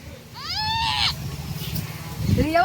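A goat bleats loudly and up close with a wavering, drawn-out cry, and a second shorter bleat follows near the end, set on a farm with a low background hum.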